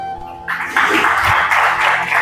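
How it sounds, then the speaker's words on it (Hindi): Audience at an open mic poetry event bursts into applause, a dense wash of clapping rising after a brief quiet start and holding steady and loud to the end. "इस महफिल में तालियां जोरों से बजाना मेरे महबूब को थोड़ा शोर पसंद है"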